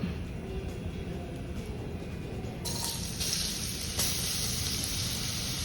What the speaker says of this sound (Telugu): దీంట్లో ఫస్ట్ బీట్రూట్ తురుము వేయించుకుందాం